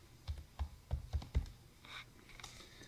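Typing on a computer keyboard: a quick run of about six close, crisp keystrokes, then a few lighter, fainter taps, all quiet with no talking.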